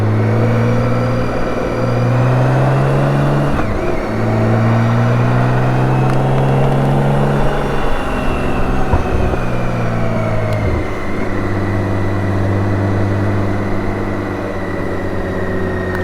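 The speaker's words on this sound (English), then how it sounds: "letting the engine do its natural braking and not do too much" A BMW K1600 GTL six-cylinder touring motorcycle engine-braking downhill in second gear, a steady droning engine note that rises and falls slightly as revs shift, loud and close throughout with no talk.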